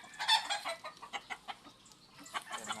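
Breeding roosters and chickens cluck and squawk nearby in a quiet, fairly faint series of short, irregular calls.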